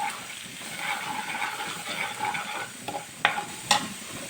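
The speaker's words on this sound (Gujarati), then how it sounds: "એક ચમચી જેટલો ચણાનો આટો લીધેલો છે તે અંદર ટીકી કરો આટો એકદમ સારું હિતાઈ જાય સારું ચલાવવાનું છે" Gram flour, about a spoonful, roasting in a pan for a chicken paratha, with a steady gentle sizzle under continuous stirring and a couple of sharper spoon scrapes near the end.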